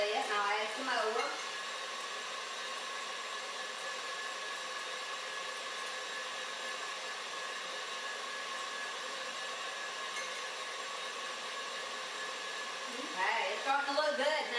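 Electric hand mixer whipping egg whites into meringue for a lemon pie as sugar is added a spoonful at a time, a continuous whirring drone with brief bursts of beater rattle at the start and end.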